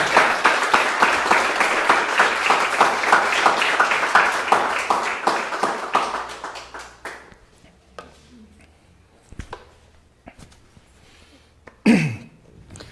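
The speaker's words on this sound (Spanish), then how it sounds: "Fuerte ese aplauso para nuestro Dios, hermano." A church congregation claps loudly and steadily for several seconds, then the clapping fades out into scattered sounds and a brief voice near the end.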